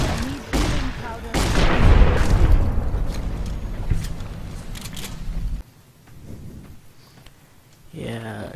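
Shotgun blasts in Fallout: New Vegas during a fight with a Yao Guai, several loud booming shots in the first half, then quieter action with talk in the game.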